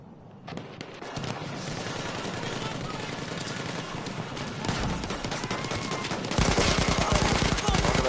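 Sustained rapid automatic fire from an LMG 08 machine gun in Battlefield 1, dense continuous rattling bursts that grow louder and closer toward the end, with other battle noise and a voice partly underneath.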